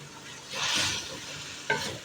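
Sliced okra tumbling into hot spice masala, stirred with a scrape and settling into a steady frying sizzle, with a sharp clatter near the end.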